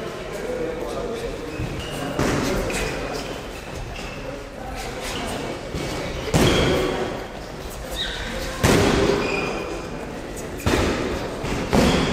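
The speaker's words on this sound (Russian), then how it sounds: "Резкий, мощный джеб, джеб," Boxing jabs smack into pads during a sparring warm-up, several sharp thuds landing at irregular intervals while a coach talks and calls out instructions between the hits.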